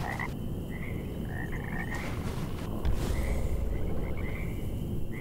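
Frogs croak in the video game Mortal Shell, with repeated short ribbity calls that come in clusters over a rough, steady background noise and no talking.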